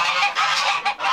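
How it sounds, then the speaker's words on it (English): Loud honking and squawking from a crowd of farm poultry, Pekin ducks and mixed breeds, in an enclosure on a farm, with overlapping calls running continuously and close by, with no talking. "So here it is, the loud bird enclosure."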